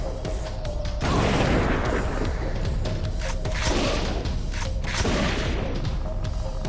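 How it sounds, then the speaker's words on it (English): A barricade is smashed apart in the zombie game Dead Age 2, with repeated heavy crashing booms arriving in bursts over a constant low rumble, loud and close. "They've destroyed a barricade."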